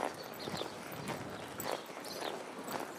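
A horse's hooves clip-clop at a steady walking rhythm in an arena while it circles tightly around a barrel, mid-distance and fairly faint, with no talking.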